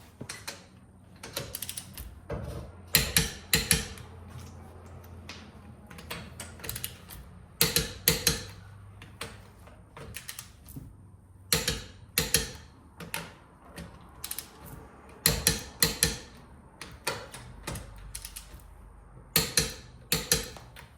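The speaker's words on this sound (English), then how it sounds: "I'll now finish up torquing a 96 foot-pounds." Lug nuts on a Porsche 911 wheel are torqued to 96 foot-pounds, with repeated short bursts of sharp ratchet clicks and metallic clunks separated by quiet gaps, close by and with no voices.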